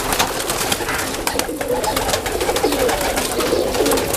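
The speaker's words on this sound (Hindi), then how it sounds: "ये भी कमंगर कबूतर है जी" A Kamangar pigeon coos in soft, repeated low rolling phrases, close by, against a constant background rustle and flutter from other birds.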